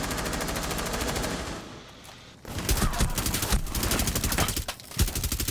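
Sustained automatic gunfire from a hard-recoiling weapon in a shooting video game, loud rapid bursts close up, a brief drop in the firing, then a second long burst with a short gap near the end.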